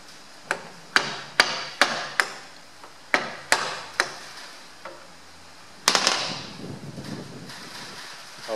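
An impact nut gun rattles a nut off the steering column of a John Deere tractor, such as a 2030 or 2140, in about eight sharp, evenly spaced bursts up close, followed by a longer continuous whirring run.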